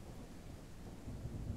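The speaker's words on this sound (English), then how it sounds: "It's just started raining." Rain begins falling in the survival video game Outbreak Island, a faint, low rumbling wash of rainfall that stays steady and quiet, slightly fuller toward the end, with no voices.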